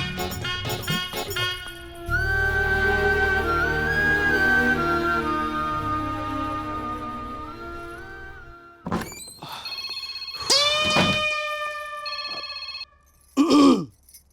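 A telephone rings in repeated bursts with bright electronic tones, separated by pauses and a few dull knocks.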